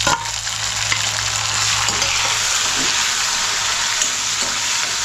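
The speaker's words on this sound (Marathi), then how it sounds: "आता इथे मी टोमॅटो टाकते" Tomatoes sizzling loudly in a hot frying pan, a steady bright hiss with occasional stirring clinks, close and continuous with no voices.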